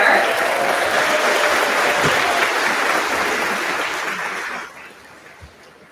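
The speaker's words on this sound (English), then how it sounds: "If we could give them a round of applause over there." Sustained audience applause for mentors at a high school graduation ceremony, dense steady clapping from a large crowd that fades out near the end.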